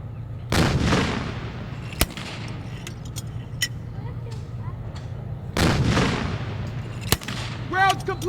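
WWII-era mortar fired at a living-history demonstration encampment at Old Bethpage Village Restoration: two loud, sharp booms roughly five seconds apart, each with a long rolling outdoor echo, plus a few fainter distant reports between them.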